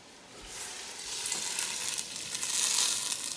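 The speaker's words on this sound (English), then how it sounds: "So at this point, our onions are pretty well sauteed. I'm just going to add the stock" Stock poured onto sautéed onions in a hot pan, a hissing sizzle that swells and grows louder over a few seconds, close and steady with no talk.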